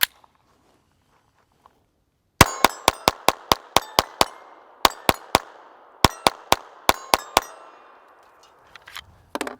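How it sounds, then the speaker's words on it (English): SIG P322 Comp pistol fired outdoors in quick strings of sharp, loud shots, three rapid bursts of several rounds each with brief pauses between, followed by faint clatter. "let's do some more shooting here"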